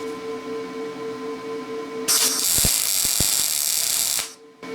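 Compressed air blown onto a fresh weld on a 1971 OMC Snow Cruiser running board, a loud steady hiss starting abruptly for about two seconds over a low hum, with a few clicks.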